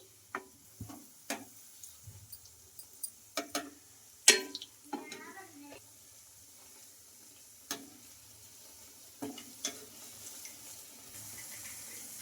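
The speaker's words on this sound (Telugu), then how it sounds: "ఇంకా ఒక నిమిషం పాటు ఆయిల్లో బాగా ఫ్రై అయిన తర్వాత ఇంకొక వైపుకి అయితే ఇలా టర్న్ చేసుకుంటున్నాను" Leftover-rice vadas frying in hot oil and being turned, a soft continuous sizzle broken by sharp clicks and scrapes of the turning spoon, one louder knock near the middle, then quieter bubbling with occasional taps.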